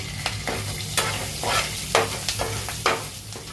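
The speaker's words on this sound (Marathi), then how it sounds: "खडे मसाले सुद्धा फ्राय करायचे त्याच्यामध्ये आपण टाकणार आहोत कढीपत्ता आणि दोन मिरची" Curry leaves and two chillies frying with whole spices in hot oil, a loud steady sizzle broken by rhythmic spatula stirs and scrapes against the pan, close up with a low hum underneath.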